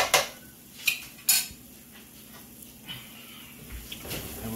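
A whisk working cornstarch into a pan for creamy garlic chicken, starting with a few sharp metallic clinks against the pan, then a quieter rhythmic scraping and swishing, close and without talk.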